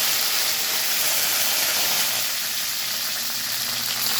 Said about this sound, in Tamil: எண்ணெய் காஞ்சிட்டு கடுகு சேர்த்துருக்காங்க, கருவேப்பிலை சேர்த்துருக்காங்க